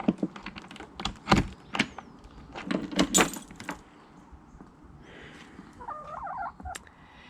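Backyard hens clucking in a coop in the morning, with a broody hen among them; short irregular bursts of clucks and squawks close by, louder in the first half, fading to softer rustling and a brief higher call near the end.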